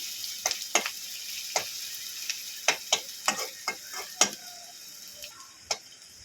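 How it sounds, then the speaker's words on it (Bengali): Onion frying in hot oil gives a soft steady sizzle broken by a dozen or so sharp crackles and pops at irregular intervals, fairly quiet and close, with no talking. "পেঁয়াজটা ঠিক এইভাবে আমি ভেজে নেব তেল থেকে ছেঁকে তুলে নেব"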